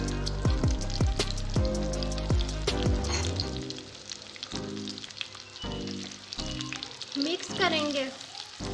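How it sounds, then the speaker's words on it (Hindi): Chopped onions for keema go into hot oil and sizzle and crackle steadily over about nine seconds, with a brief spoken line partway through. "तो यहाँ पे ऑयल हमारा गर्म हो गया। अब हम इसमें ऐड करेंगे प्याज"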